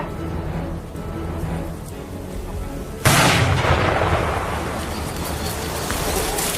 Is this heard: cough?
no